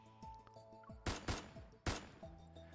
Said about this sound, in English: Gunshot explodes in the empty reception hall.